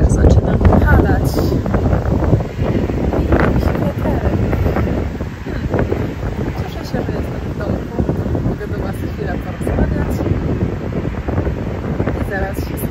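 Gusty wind buffets the microphone in rough, constant bursts, loud and close, with faint wave-like rushing underneath.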